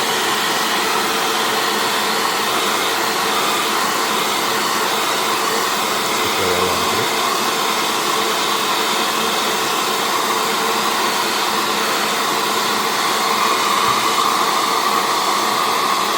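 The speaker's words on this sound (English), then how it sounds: "I'm using the hair dryer" A steady, loud hair dryer blows continuously throughout, heating a Galaxy A51 phone screen, a broad rushing whoosh with no talking.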